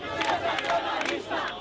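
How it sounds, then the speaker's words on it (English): A crowd of Brazilian protesters shouts and jeers at an O Globo reporter, a dense wall of overlapping angry voices with sharp rising yells over about two seconds. "an O Globo reporter is heckled by the crowd"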